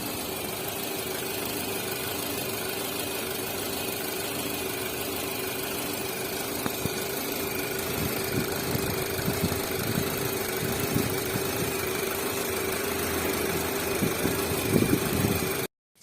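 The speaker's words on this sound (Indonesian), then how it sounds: "Untuk mesin expander yang masih bagus, idealnya bunyinya seperti ini." Steady idle of a healthy Mitsubishi Xpander engine heard close up, an even hum with faint ticking and a slight rise in rumble near the end before it cuts off abruptly.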